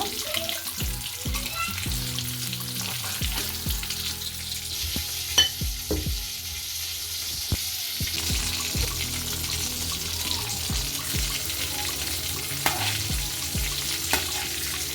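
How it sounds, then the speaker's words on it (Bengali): Coated chicken pieces fry in a small amount of oil, giving a steady close sizzle with light scraping and stirring clatter and a few sharp knocks throughout, no talking. "আমি কিন্তু খুব সামান্য তেল দিয়েছি কারণ আমার যদি অল্প তেলে ভাজতে পারি"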